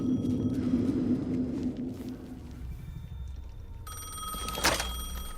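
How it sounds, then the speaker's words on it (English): A telephone rings in the video game Alan Wake 2, a bright repeated electronic bell heard over low rumbling ambience, with a sharper knock-like sound near the end. "The phone again."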